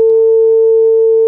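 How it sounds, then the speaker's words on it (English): A pure, steady sine tone at 449 hertz from an oscillator patch in Pure Data, loud, unwavering and alone for over a second. "That's the sound of this oscillator, this sine wave generator, playing at 449 hertz."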